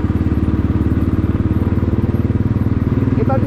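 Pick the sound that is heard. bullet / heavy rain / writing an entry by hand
bullet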